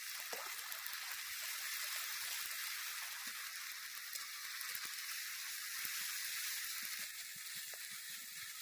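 A ginger, garlic and cumin paste fries in a pan with softened onions. The sizzle is steady and fizzing, with faint spatters and crackles running through it, close and even throughout.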